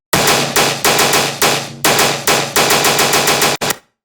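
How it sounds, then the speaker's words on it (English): A resampled tearout gun sample from music production fires in heavy, hard-hitting bursts, about eight punchy gunshot-like hits in a steady rhythm, loud and close, before a short stutter and a quick cutoff. "So that's the resampled gun sample that you hear"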